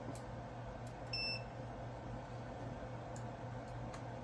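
A short electronic beep from a multimeter on continuity mode, with a clear tone and a harmonic, sounding once about a second in over a steady low hum and background noise.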